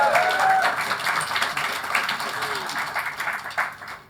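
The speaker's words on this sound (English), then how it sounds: "So I say we need a round of applause for that." A live podcast audience claps for a few seconds, a moderate, scattered patter that fades out while a voice speaks over it.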